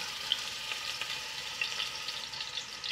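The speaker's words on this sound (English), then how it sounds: "And now I'm adding ginger garlic paste." Ginger garlic paste sizzling in a frying pan with spices for mutton chops, a steady soft crackling hiss with small pops throughout, quiet and without any talking.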